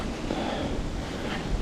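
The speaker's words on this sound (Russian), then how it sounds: "несет меня ветром туда" Continuous wind buffeting the microphone outdoors while fishing on the Moksha River in Mordovia in October, with a low rushing roar and faint water in the background.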